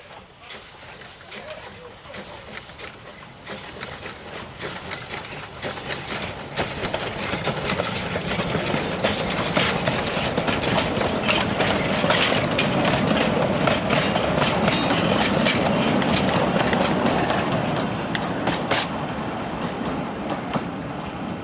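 A small 009 scale model railway locomotive rumbles and clicks steadily along the track, growing louder as it nears, with a faint hiss and rhythmic clatter.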